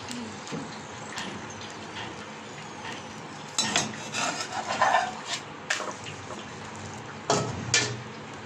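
A paratha sandwich being turned over in a pan, with spatula and utensil clatter in scattered bursts over a steady low kitchen hiss, close by and fairly quiet.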